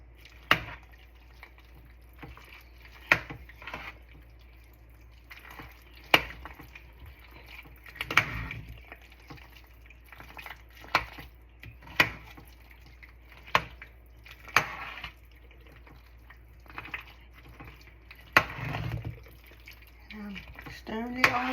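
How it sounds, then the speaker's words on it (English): A spoon turns crab claw meat through seafood mac and cheese, making faint, irregular wet clicks and scrapes in a pot, heard close under quiet talk. "Stirring it all around. Try to get it in all the parts."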